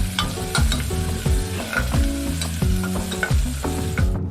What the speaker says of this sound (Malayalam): ഇതാ നമ്മുടെ തേങ്ങാക്കൊത്തും ചുവന്നുള്ളിയൊക്കെ നന്നായിട്ട് എണ്ണ കിടന്ന് മൂത്ത് വന്നിട്ടുണ്ട്